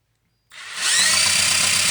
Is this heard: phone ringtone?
no